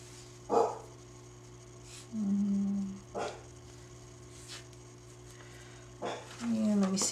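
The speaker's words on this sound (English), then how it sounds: "There goes the dog. She must hear the neighbors doing something." A dog barks indoors, apparently at neighbours, in a few short, separated bursts a few seconds apart. The barks are muffled and fairly distant over a steady background hum.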